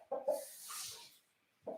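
Pet rooster clucking indoors, a couple of short throaty clucks close by with a soft rustle between them.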